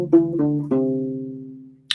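Part of the Westworld theme played on a U-Bass: three plucked low notes, the last ringing out and slowly decaying, close and clean with no talking.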